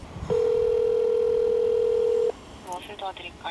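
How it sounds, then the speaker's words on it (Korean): A telephone dial tone sounds as a steady, loud single tone for about two seconds while placing a call to a BMW service centre in Korea, then cuts off into brief, quieter tones and sounds from the line. "제가 가까운 지점으로 다시 한번 전화해 보도록 하겠습니다"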